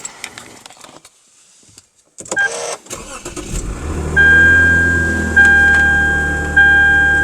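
A car with about 123,000 miles cranks over after some rustling and clicks, catches, and settles into a loud steady idle with a rising revving surge and chime tones.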